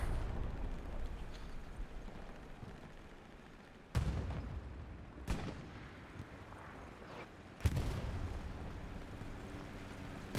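Rocket explosions in a video game battle on a WWII-style map: three sharp, heavy blasts land a few seconds apart over a constant rumbling backdrop of distant battle noise, each one loud and close with a brief rolling tail.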